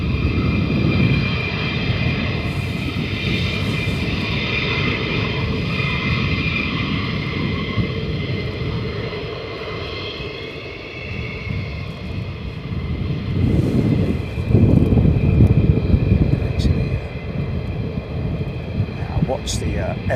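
Two military jets take off together from RAF Lakenheath, a loud, continuous roar that swells and fades over about twenty seconds. Someone talks over the engine noise.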